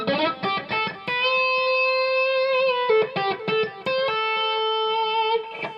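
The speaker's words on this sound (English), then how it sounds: "that's the sound of the guitar going straight into the amp." An electric guitar plugged directly into an amplifier with no effects in between, playing clean sustained chords and single picked notes that ring out, loud and close, with no voices.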